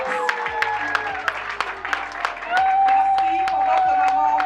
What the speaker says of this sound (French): Applaudissons le cinéma congolais, s'il vous plaît